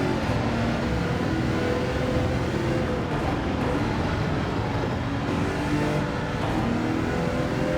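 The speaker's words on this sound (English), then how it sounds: "the engine sounds really, really quiet" Audi R18 TDI race car engine in Gran Turismo 7 at Spa, a steady, dense droning engine roar with slight pitch shifts as it accelerates, continuous and fairly subdued in the mix, with no talking.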